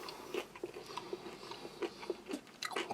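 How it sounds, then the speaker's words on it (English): Salted peanut snack from a US Army kosher combat ration being chewed up close, a run of crisp crunches and bites in irregular rhythm with no talking. "just like eating salted peanuts with a little extra texture, flavour and crunch"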